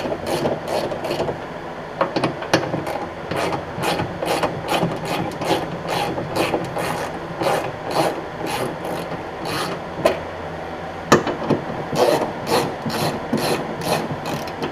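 Ratchet loosening and removing 10 mm bolts from the rear wiper motor of a 1998 Subaru Forester, a steady run of close rapid clicking and rasping strokes with no talking.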